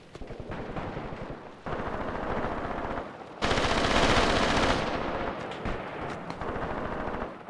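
Dense machine-gun and rifle fire in Graviteam Tactics forest fighting, several overlapping bursts that swell into a loud, heavy volley midway, then settle into steady rattling fire.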